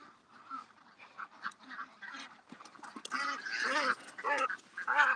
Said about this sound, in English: Come on, little duck. I got to catch you.